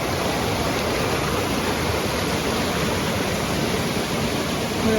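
A swift stream rushes past a log crossing on the Pacific Crest Trail in Oregon, making a loud, steady roar of water that fills the whole clip with no talking.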